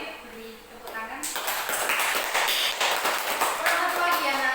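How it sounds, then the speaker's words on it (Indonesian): A classroom of students clapping together, a dense burst of many hands that swells in after a brief voice and keeps going steadily, with talk underneath. "Beri tepuk tangan"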